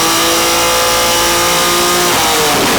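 A BMW S58 engine revving hard on a dyno during intercooler testing, a loud sustained engine roar with rising harmonic tones and a shift in pitch near the end, with no talk.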